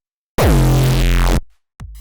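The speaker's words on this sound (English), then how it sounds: "Here is the sound that is generated by the plugin." A single loud, distorted hardcore kick drum from a synth plugin rings out for about a second with a sustained, gritty low tone, then stops; a brief second hit begins at the end.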